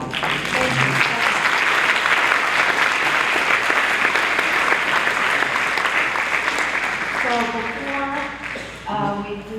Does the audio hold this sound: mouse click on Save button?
no